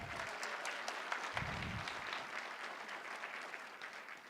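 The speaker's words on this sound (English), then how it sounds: "he still deserves a round of applause" Audience applause at a graduation hooding ceremony for Master of Public Health students, a steady, moderately distant wash of many hands clapping that carries on evenly throughout with no voices.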